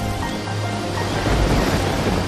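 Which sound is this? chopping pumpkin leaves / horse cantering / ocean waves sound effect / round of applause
ocean waves sound effect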